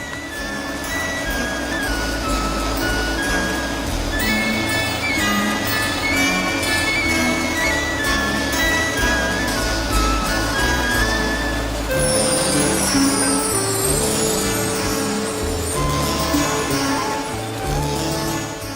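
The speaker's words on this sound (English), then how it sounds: "Now the second part of the machine, the carder, goes into action." Wool carding machine running in a Dublin woolen mill, a dense mechanical whir and clatter with steady tonal hums throughout, joined midway by a higher hissing sweep.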